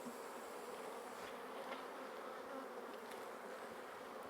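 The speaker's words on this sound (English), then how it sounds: "So this one's better, so I'm just going to shake the bees off." Honey bees from a brood frame during a hive split make a dense, continuous close buzzing that holds even for the whole stretch, with no speech over it.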